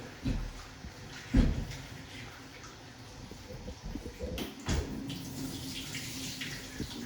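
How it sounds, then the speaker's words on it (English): Water runs steadily from a tap into a sink while food is rinsed under it, a soft continuous splash broken by a few louder clunks and handling knocks, fairly close and moderate in level. "I've rinsed it once, but I'm just rinsing it again."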